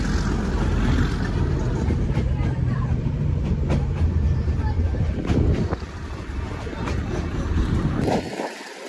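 Train running on tracks laid through cut hills near the Sasan forest in Gujarat, a continuous rushing rumble mixed with heavy wind buffeting, steady and close, fading abruptly at the end.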